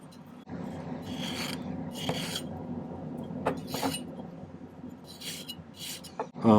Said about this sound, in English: I'm going to file the bottom of this a little flatter